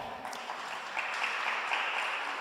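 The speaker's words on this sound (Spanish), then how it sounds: "Bien, hermana Tere, un aplauso." Steady applause from a church congregation, moderately distant, clapping continuously for a couple of seconds with no voices standing out.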